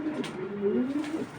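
A racing pigeon gives a single soft, throaty coo, close by and fairly quiet, with no talking.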